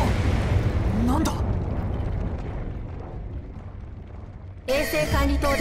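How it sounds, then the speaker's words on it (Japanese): An explosion in the video game Tribe Nine: a deep, roaring rumble that slowly fades, then a fresh burst near the end, with a voice heard faintly in the mix. "衛星管理棟で原因不明の爆発が発生。"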